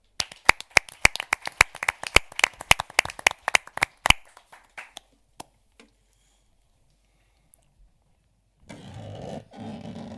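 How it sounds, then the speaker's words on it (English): An audience applauds at a multidisciplinary forum on the school-to-prison pipeline as a speaker is welcomed: dense, brisk clapping for about four seconds that thins to scattered claps, then quiet, with a soft murmur at the end. "Thank you for that applause."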